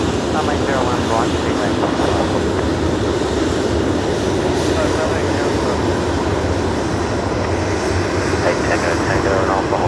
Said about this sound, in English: the Qantas 989 service that just arrived from Mackay on the new parallel runway. Currently taxiing along Zulu